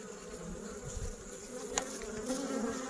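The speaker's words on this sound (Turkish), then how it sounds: "arılar alttan girecek" Honeybees buzz at a hive entrance fitted with a pollen trap in a dense, steady drone, many insects close by, with no voices.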